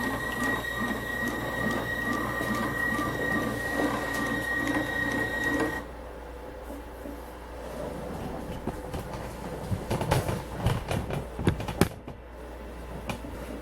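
A Blue Sky 1501 embroidery machine runs with a steady mechanical whir and whine, then shifts as it changes from needle 1 to needle 15, ending in a quieter stretch broken by a few sharp clicks and clunks. No one speaks.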